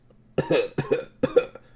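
A man coughs three times in quick succession, harsh and close, each cough a short rough burst.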